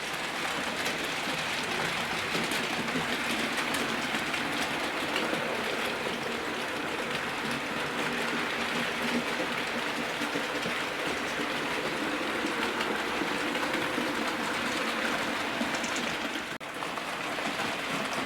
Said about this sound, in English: Here comes the Flying Scotsman, and in a second you're going to see Mallard